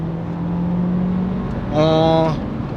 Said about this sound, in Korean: 이렇게 엑셀을 꾹 밟았을 때